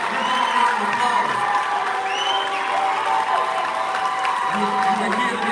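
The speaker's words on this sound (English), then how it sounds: "Give them a round of applause" Audience at a graduation ceremony applauds with scattered cheers, a full crowd clapping steadily while voices murmur and call out underneath.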